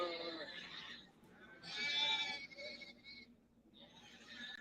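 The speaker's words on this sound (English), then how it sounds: "Got to have the sheep noises in the background" Sheep bleating in a played video clip, several drawn-out wavering calls that overlap, moderately loud and close, with short pauses between them and a faint voice underneath.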